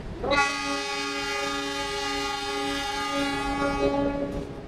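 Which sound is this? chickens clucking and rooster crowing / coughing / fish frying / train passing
train passing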